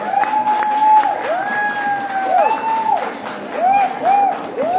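At a Purim party, an audience claps and cheers for a contestant, a continuous wash of applause with whoops, swelling and easing in waves, while shrill whistles or noisemakers pipe repeatedly above it.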